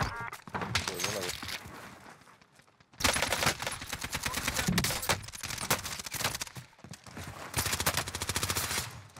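Rapid gunfire from a Call of Duty Modern Warfare Rebirth match on Alcatraz, AK47 in play, crackling in bursts under steady talk, with a brief pause before another loud stretch of shots.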